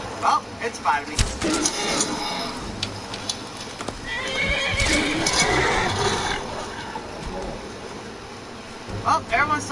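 Horse in the video game Skyrim, Dragonborn add-on, with clip-clop hooves and loud whinnies rising near the middle and again at the end, under game sounds and some talk.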